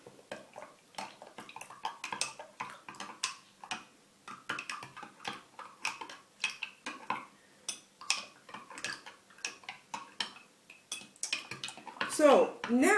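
Ground chalk powder is stirred into a glass jar of water, a rapid series of clinking, tapping strikes of a utensil against glass, close and irregular, with a faint voice briefly at the end.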